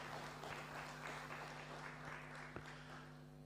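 Audience applause at a university conference, steady scattered clapping from a crowd in a room, moderately loud and continuous throughout.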